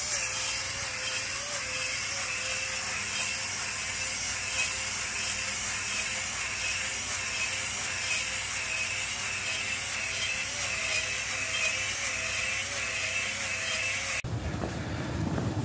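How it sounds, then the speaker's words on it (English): A ratchet wrench works on the engine of a 1939 Buick, its dense, steady clicking running almost unbroken at close range before stopping abruptly near the end, with no voices present. "Got to start turning wrenches."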